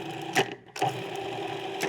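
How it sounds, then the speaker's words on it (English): Rye flour, salt and caraway seeds being mixed: a steady mechanical whir runs throughout, broken by a few sharp, louder bursts, close and even in level. "That's just mixing the dry ingredients together."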